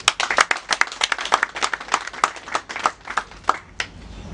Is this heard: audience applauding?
yes